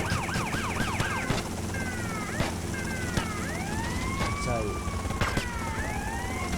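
Emergency vehicle sirens wail in a video game street scene, several rising and falling tones overlapping over steady traffic rumble, with a brief spoken word.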